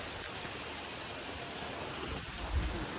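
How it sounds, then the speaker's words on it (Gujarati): Dense, steady downpour of heavy rain on Girnar mountain in Saurashtra, a constant broad hiss with low rumbling underneath, no voices. "મસ્ત વરસાદ એકદમ ચાલુ થઈ ગયેલો છે"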